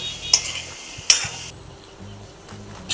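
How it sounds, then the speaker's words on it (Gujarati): Potatoes turned over in hot oil in a pan, with a few sharp clinks of a metal spoon against the pan over a low continuous sizzle. "બટેકા ઉપર નીચે કરી નાખવાના તેલમાં અને થોડી વાર તેલમાં ચડવા દેવાના"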